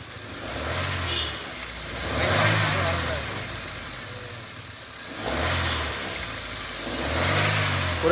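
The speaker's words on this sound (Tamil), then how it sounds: "சார் கொஞ்சம் இன்ஜினை லைட்டாக ரைஸ் பண்ணுங்கள்" The engine of a 2005 Honda City is revved in repeated slow swells, rising and falling about four times over a steady idle, heard close with background noise.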